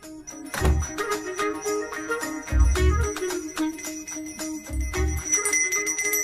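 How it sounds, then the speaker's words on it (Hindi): A bell rings in three separate bursts of bright metallic clangs with a sustained ringing tone, each strike decaying slowly, close and clear, with no voices. "मुझे जल्दी आओ बोल के यहाँ पर घंटी बजा रहे हो।"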